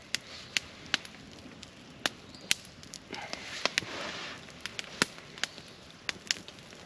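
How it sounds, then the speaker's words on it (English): A campfire burns on a rainy day while a wild turkey drumstick cooks on a spit, giving sharp scattered pops and crackles over a soft hiss, close and alone. "Fire's getting up now on it."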